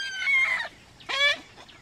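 A chicken gives two loud, close squawking clucks separated by a short pause, over a quiet outdoor background.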